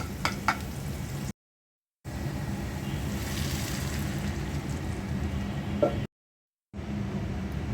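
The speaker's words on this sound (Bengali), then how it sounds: "ডালের জন্য পেঁয়াজ আর রসুন বাগার দিয়ে নিচ্ছি। আর দিয়ে দিচ্ছি পাঁচফোড়ন।" Onion, garlic and panch phoron sizzle as a tempering for dal, giving a steady, even hiss close by, broken by two brief silent gaps, with no talk.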